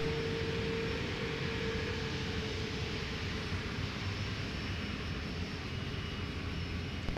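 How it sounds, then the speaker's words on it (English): Delta Airbus A330-900neo arriving from Amsterdam at Minneapolis–Saint Paul airport, heard as a steady, continuous jet engine roar at a moderate distance that holds evenly throughout. "Delta 165 now in town from Amsterdam with the A330 900 Neo"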